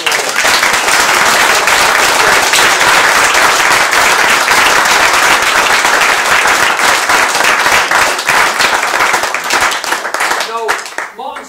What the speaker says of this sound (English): you should just give Jeanette a round of applause.